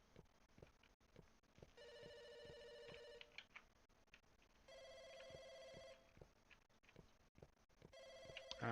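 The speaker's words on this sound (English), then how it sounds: "There's the phone again." Telephone ringing in the video game Firework, repeated electronic ring bursts in a steady pattern over quiet background with faint regular thuds; no talking.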